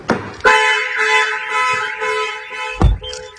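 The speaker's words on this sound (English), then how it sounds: "once this vehicle's alarm system is armed, should a thief get in the car or set off the alarm" A loud, steady electronic car alarm tone blaring close by, cut off abruptly after a few seconds with a thump.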